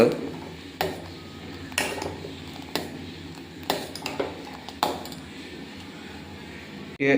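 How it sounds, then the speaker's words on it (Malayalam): A ladle stirs coffee in a pot, its metal tapping the sides in sharp clinks about once a second, close and moderately loud over a quiet kitchen background. "നല്ല രീതിയിൽ അത് തവി വെച്ച് നമ്മളൊന്ന് ഇളക്കണം"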